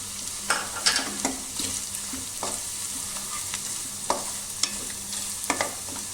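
Browned onions fry in a pan with cumin, coriander and Kashmiri chili powder, a constant close sizzle broken by several sharp spoon scrapes and stirs, with no voices.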